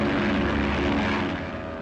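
A propeller airplane searches overhead in a 1939 setting, its engine a continuous droning hum that starts strong and fades slightly toward the end, with no talking.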